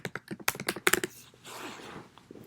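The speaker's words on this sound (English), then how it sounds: "So I'll just type my name." Rapid keystrokes on a computer keyboard while typing a name into a document, a quick burst of close clicks for about a second, then a faint hiss of room noise.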